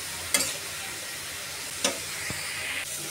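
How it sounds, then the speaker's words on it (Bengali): Snake gourd pieces stir-fried with dried red chillies in a pan, a constant close sizzle with three or four distinct spatula scrapes and knocks spaced irregularly, no one speaking. "এখন আমি চিচিঙ্গাগুলো দিয়ে দিলাম। এখন আমি ভালো করে ভাজি করব।"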